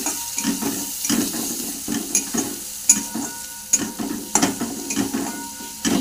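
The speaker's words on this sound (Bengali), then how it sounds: "এই দিকে এই যে কড়াইতে পেঁয়াজ ভাজা হচ্ছে" Onions frying with salt, garlic, turmeric and green chillies sizzle in a wok while a spatula stirs them in repeated scraping strokes, close and fairly loud, with no voices.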